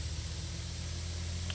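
A farm sprayer in Pure Farming 2018 hisses steadily in a broad, unbroken spray over a low machine hum, even in loudness throughout.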